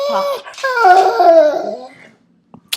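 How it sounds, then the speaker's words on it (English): A pet dog gives a drawn-out, howling whine with a wavering pitch that rises and falls, loud and close, followed by a moment of quiet and a couple of small clicks. "So everyone, this is my dog."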